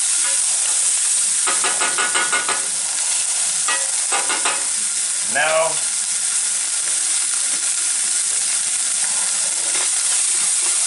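Rice fries in a hot pan under a constant loud sizzle while a spoon scrapes and stirs through it in short bursts. A voice speaks briefly.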